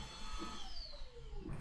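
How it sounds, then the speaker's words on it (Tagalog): A household vacuum cleaner runs steadily and fairly loud for the whole moment, its whine sliding slowly down in pitch, captured during a mic test on a Boya Mic Mini with noise reduction set to high. "Test po natin sa vacuum cleaner."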